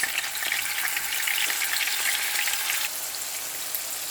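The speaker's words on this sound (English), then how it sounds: "So while frying our tofu" Tofu fries in a pan with a continuous bright sizzle and crackle, steady and close, easing slightly toward the end.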